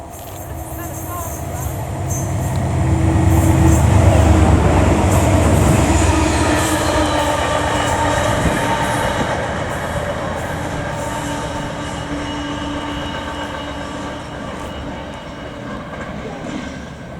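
A train rolls through Yatton station, its rumble swelling to a loud peak early on, then holding as a steady clatter of wheels with some squeal. Voices talk faintly at times.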